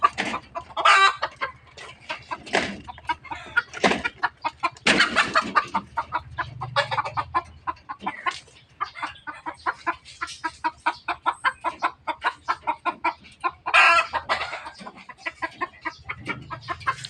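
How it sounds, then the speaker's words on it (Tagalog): A pet Talisayin rooster clucks in close, rapid runs, broken by several louder crowing calls. Sharp bursts stand out over a quiet farmyard background. "ito naman ang aking tandang. Yan, flex ko lang sa inyo ang aking tandang. Talisayin."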